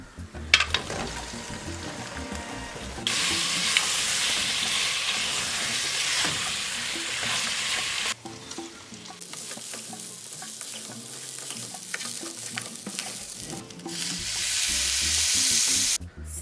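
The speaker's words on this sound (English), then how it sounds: "Stir with a fork to avoid mashing the rice." Beef pilau rice is stirred with a fork in a cooking pot, giving a close, continuous sizzling hiss with stirring scrapes that swells loudly in stretches and drops back in between.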